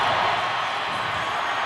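Denver Broncos stadium crowd cheering for Peyton Manning, a sustained, loud roar of many voices that holds steady throughout, with no pauses.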